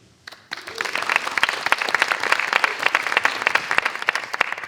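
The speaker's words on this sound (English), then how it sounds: "Oh, thank you for the clap. Thank you for the extra clap." Audience applause breaks out at a nonpartisan mayoral forum at Point Park University in Pittsburgh, starting abruptly and continuing as brisk, close clapping from a seated crowd.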